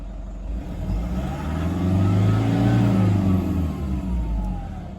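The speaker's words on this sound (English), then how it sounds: "Very responsive, very quiet, just a bit of a woo to the turbo" Toyota D4D diesel engine revving up and easing back, with a soft turbo whoosh rising over a steady low rumble, close and continuous with no talk.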